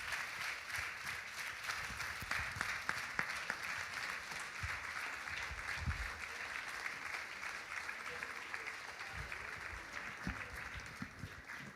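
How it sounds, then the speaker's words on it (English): Audience applause at a Seattle remembrance event for gun violence victims, steady clapping from a crowd that holds at an even level throughout, fairly distant with no other sounds standing out. "Can you guys give them a round of applause?"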